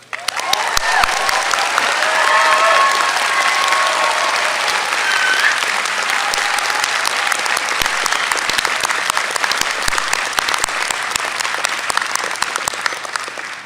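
Sustained, loud applause from a large audience honouring the 2017 graduating MBA class at a University of British Columbia ceremony, dense clapping filling the hall for well over ten seconds with no speech over it.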